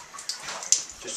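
Water poured into drain traps in a building gives a brief, faint splashing trickle with a couple of small sharp splashes, heard close with no speech.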